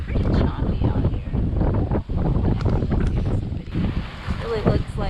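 Strong wind buffets the microphone aboard a sailboat on choppy open water, with a steady roar and slapping waves throughout, and a voice breaking in at moments.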